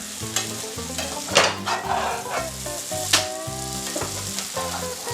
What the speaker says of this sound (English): I'm going to take the lid off. Give it another stir.